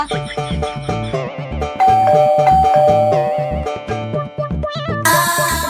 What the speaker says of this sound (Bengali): আরে কলিং বেল বাজা